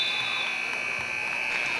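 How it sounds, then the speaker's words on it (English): At a girls high school basketball game, the halftime buzzer sounds as a steady, fairly faint electronic tone that holds for the whole short stretch over a murmuring gym. "the buzzer will sound to send us to half"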